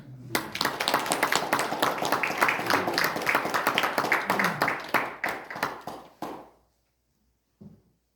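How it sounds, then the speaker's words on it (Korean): An audience at a Buddhist lecture claps in a sustained round that fades out after about six seconds, followed by a brief silence and a faint sound near the end. "박수 한번 칩시다"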